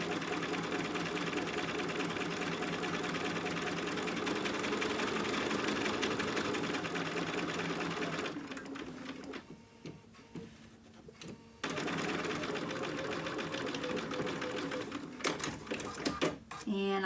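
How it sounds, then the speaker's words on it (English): A sewing machine stitches seams on a small dog dress outfit, running steadily for about eight seconds, pausing briefly, then resuming with a continuous mechanical whir and fast needle rhythm. "You want to sew these."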